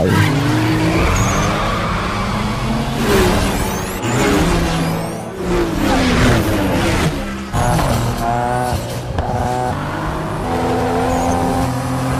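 Street race cars in a movie chase skid and squeal their tires with loud, busy engine roar, repeated skids running through the whole stretch.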